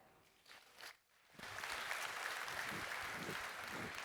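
A keynote audience at a Microsoft event claps loudly after a brief lull, the dense applause rising about halfway through and holding steady to the end, with no talking over it.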